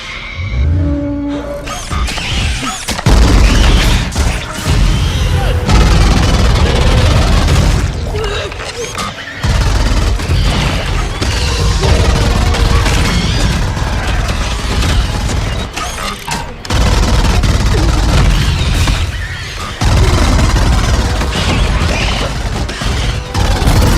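Loud, dense sci-fi film soundtrack of gunfire against alien xenomorphs aboard a derelict space station, with booming blasts, crashes and mechanical clatter running almost continuously and a few brief drops in between.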